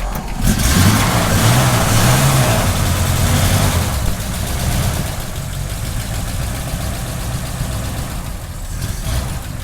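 A 1951 Ford F-1 pickup engine idles steadily up close, a low continuous rumble with a slight rise in revs early on before settling into an even, quiet hum.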